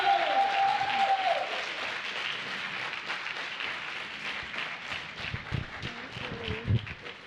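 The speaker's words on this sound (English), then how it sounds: "let's give her a round of applause as a new president and CEO of Bed-Stuy Restoration" Conference audience applauding in a hall at a Brooklyn housing event, a steady wash of clapping that fades slightly over several seconds with faint voices and movement near the end.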